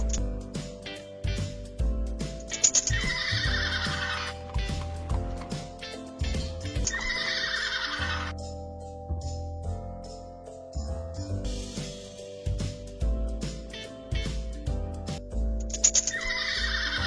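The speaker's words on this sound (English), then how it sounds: "Open the barn to see which animals we have here." Horses neigh in a barn, with several loud whinnies in separate bursts over steady background music and some clip-clop.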